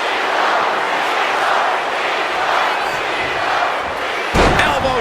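A WWE 2K25 wrestler lands an elbow drop with a sharp, heavy slam on the ring mat near the end, cutting through a constant roaring arena crowd.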